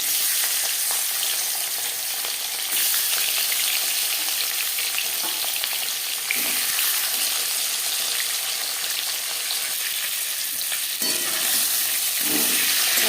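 A marinated rohu fish head fries in hot refined oil with a loud, unbroken sizzling hiss that holds steady for the whole stretch, occasionally swelling with bursts of spattering; no voices.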